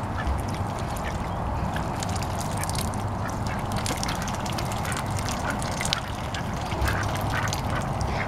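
Several ducks quack and honk in a busy, continuous chorus around a spring pool of water, close and fairly loud, with splashing and mixed fowl calls throughout.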